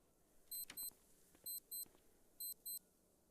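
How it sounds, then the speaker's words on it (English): An electronic alarm in Cataclysm: Dark Days Ahead beeps in three quick pairs of high, sharp tones, evenly spaced and fairly prominent over a quiet background. "Oh, there's an alarm, guys."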